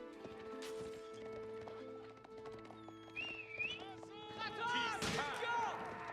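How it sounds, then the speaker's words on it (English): Cavalry hooves clip-clop across a battlefield in Age of Empires 4, mixed with game sounds, a whinny-like tone and spearmen clashing, while a commentator talks over the action. "Got a couple spearmen there and horsemen."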